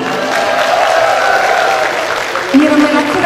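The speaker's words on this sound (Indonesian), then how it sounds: "kita nak dengar tepukan untuk kumpulan lelaki" Group of young boys at a children's event clapping and cheering together, a loud continuous burst of applause with voices shouting over it, rising briefly toward the end.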